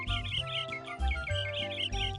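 Birds chirp and tweet in quick repeated bursts in the Disney PC game Mickey Saves the Day, bright and fairly close, over a steady low musical background.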